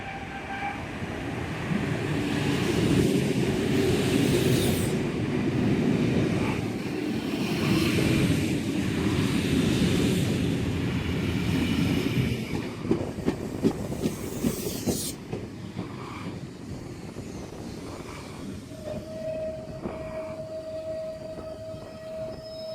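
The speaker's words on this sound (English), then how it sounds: "We have an S-set approaching on platform number 1 at Turrella" A Sydney S-set electric train pulls into the platform at Turrella station, with a steady loud rumble and clatter of wheels that eases off as it slows and stops, then a faint tone and quiet platform ambience.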